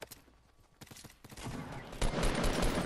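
Gunfire in a Fortnite Battle Royale match, scattered sharp shots early that build into denser, louder bursts of rapid fire toward the end, fairly close.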